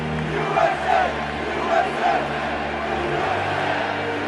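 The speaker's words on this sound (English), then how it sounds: "The crowd just erupts in a chant of USA." Baseball fans at Yankee Stadium chanting USA, a dense roaring crowd with rhythmic chant swells rising and falling over a constant wall of noise, heard from within the stands.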